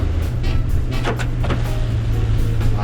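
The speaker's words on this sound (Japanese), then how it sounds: "今みたいな雨音今入ったかな、カラッコロンって結構太鼓みたいに響く感じがあります。" Rain patters and taps on the roof and squared-off windshield of a Suzuki Jimny XC (JB64W) while it drives in the rain, a few sharper drum-like knocks standing out over steady low road and engine rumble.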